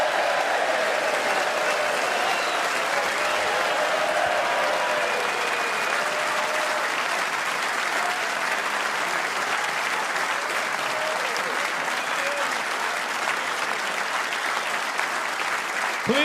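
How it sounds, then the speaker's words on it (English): The Crucible crowd at the World Snooker Championship applauds warmly and steadily, a broad sustained wash of clapping from a large indoor audience that holds at an even level for the whole stretch. "they will all be greeted by a rapturous reception from the Crucible crowd"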